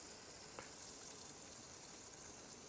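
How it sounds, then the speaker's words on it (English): Thick steaks sizzle in a pan over a camp fire at an off-grid beach camp, a steady, faint hiss that holds evenly throughout with no voices. "Depending on the amount of heat we've got a sizzle there"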